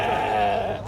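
A young lamb at a sheep market in Sokuluk gives one sustained, wavering bleat, loud and close, lasting about a second.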